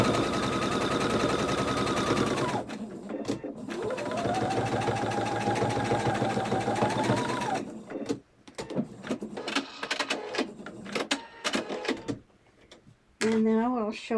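Sewing machine stitching a seam, a loud rapid mechanical chatter that runs steadily for several seconds, slows and pauses, then gives way to short bursts and handling sounds, with a person talking over parts of it.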